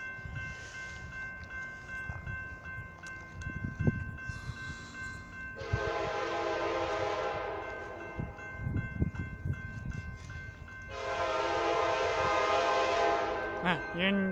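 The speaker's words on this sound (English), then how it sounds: "Union Pacific Intermodal Freight Train." A Union Pacific intermodal freight train passes on the BNSF Seattle subdivision main line, its rumble and rail clatter building as it nears, with two long blasts of the horn, the second louder and closer.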